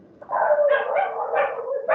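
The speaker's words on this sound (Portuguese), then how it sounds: "Você viu os cachorros aqui, né?" Dogs give a sustained whining, yelping bark, moderately loud and close, holding for about two seconds with a few rising bursts.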